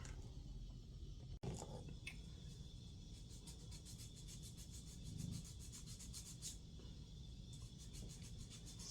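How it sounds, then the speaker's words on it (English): Toenails being filed during an at-home pedicure, a steady close scratchy rasping repeated in quick regular strokes, quiet and continuous with no talk. "filing my toenails, y'all."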